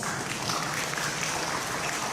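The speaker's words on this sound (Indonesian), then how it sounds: "boleh tepuk tangan untuk ITS" An audience claps for ITS during an indoor talk on gratification, a dense, steady wash of applause at moderate level with no voice over it.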